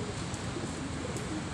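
Racing pigeons at a loft coo softly in a low, continuous murmur, faint and steady against quiet background ambience.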